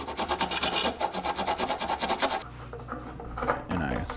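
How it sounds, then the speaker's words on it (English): Rhythmic rasping and scraping of a chisel cutting a bevel into a wooden banjo tail piece, steady repeated strokes for about two seconds, then quieter irregular scraping and taps. "Chisel out the edges and cut sort of this bevel into it."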